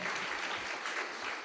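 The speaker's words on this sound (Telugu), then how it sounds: "అందరు చప్పట్లు కొట్టి దేవుని మహిమపరుద్దాం" A church congregation claps hands together in worship, a brief burst of dense, even applause from many people at moderate loudness, with no voices standing out.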